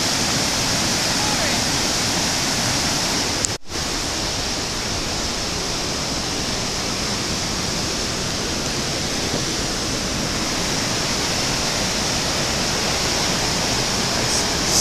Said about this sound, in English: You can see through it where it's flowing over the rocks.